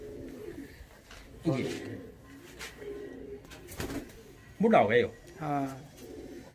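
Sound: pigeons cooing

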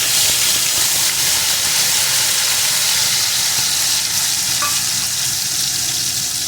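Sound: onion, garlic and green chilli paste frying with prawns

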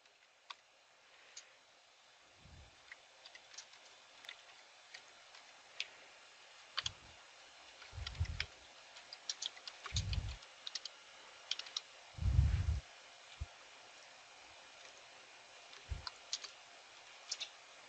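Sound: typing commands on a computer keyboard

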